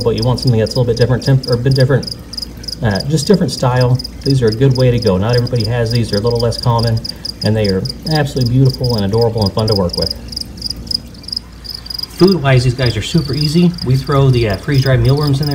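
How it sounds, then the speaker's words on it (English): Crickets chirp loudly and continuously inside a fat-tailed gecko enclosure, dense rapid pulsing trills running throughout while a person talks over them. "You can probably hear them chirping in the background"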